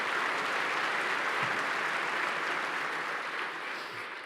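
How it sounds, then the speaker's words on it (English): A crowd claps steadily in a dense, sustained round of applause that fades slightly toward the end. "if we can please give them a round of applause"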